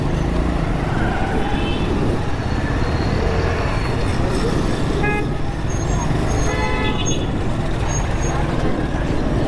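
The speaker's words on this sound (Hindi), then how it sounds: "पुलिस की वैन जो है इस वक्त रॉन्ग आ रही है। हॉर्न दिया जा रहा है" A police van sounds its horn in busy Karachi street traffic, with several short toots over a loud, dense roar of engines and passing vehicles, and voices mixed into the din.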